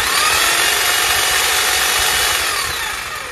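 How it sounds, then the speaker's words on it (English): An electric hedge trimmer powered by a portable generator buzzes loudly and steadily at close range, then tapers off slightly toward the end. "Let's see if this generator is strong enough to power a simple electric hedge trimmer."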